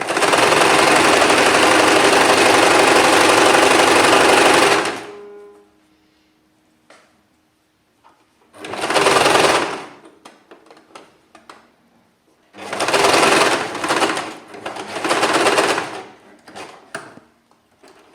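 A sewing machine stitches elastic onto lingerie panties in three loud bursts of fast, steady whirring: a long run of about five seconds, then two shorter runs separated by quiet pauses with faint handling clicks.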